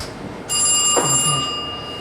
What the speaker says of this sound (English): And it rings the phone over here on the back.